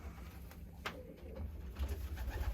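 Pigeons in a loft on a spring day, with soft low cooing murmurs running steadily underneath, a few faint brief calls and some rustling, and no talking.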